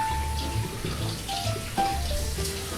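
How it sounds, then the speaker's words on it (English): Hands rinsed under a running tap, a steady splashing water stream at close range lasting the whole moment, with no talk over it. "I have to rinse my hands."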